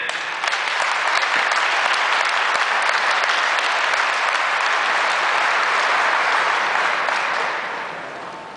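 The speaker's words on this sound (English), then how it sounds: "give yourselves a huge round of applause" Loud, sustained applause from an audience at a community centre grand opening, dense clapping that holds steady for several seconds before tapering off near the end.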